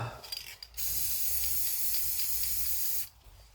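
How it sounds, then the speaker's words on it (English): Spray paint hisses in one steady, loud burst of about two seconds onto a piece of cardboard, with short broken spurts just before it and a quiet tail after. "all I'm doing is just spraying onto a piece of cardboard, get a nice little pool of paint going"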